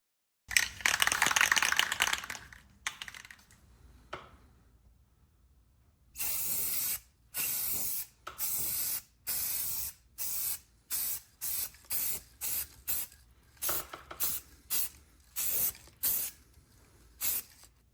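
Black spray paint sprayed onto the frame of a 1971 Ford F100 truck, one long hissing burst followed by many short rhythmic spurts with brief pauses, close and clear.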